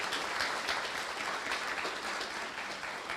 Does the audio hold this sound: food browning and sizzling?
no